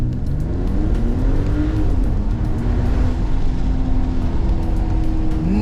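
A 2024 Mercedes-Benz GLE 450 petrol 4MATIC's engine and exhaust drone steadily through a short sprint, the pitch rising and falling as it accelerates, heard loud and continuous from inside the car with the windows down.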